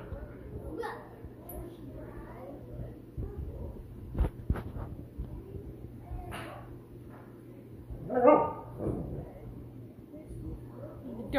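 A young child makes soft yips and whimpering bark-like noises, imitating a dog, with an adult talking intermittently in a quiet room.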